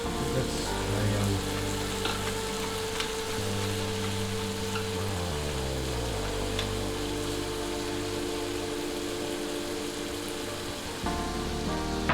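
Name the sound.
pork with tomato sauce (Kinamatisang Baboy) cooking in pan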